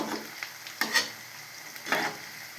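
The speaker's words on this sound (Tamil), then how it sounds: "சிம்மில் வச்சு நம்ம பொரித்து எடுத்துக்கிடணும்" Taro (colocasia) pieces frying in oil over a low flame, a soft steady sizzle broken by a few sharp stirring scrapes of a spoon in the pan, close and fairly quiet.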